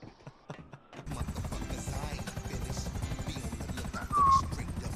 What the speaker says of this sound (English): Let me just get in this chopper.